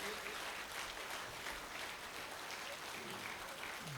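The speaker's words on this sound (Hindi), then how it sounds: "एक बार सब लोग तालियां बजाकर बता दीजिए" An audience at a Hindi poetry gathering (kavi sammelan) claps steadily throughout, a dense, continuous wash of applause from a large crowd.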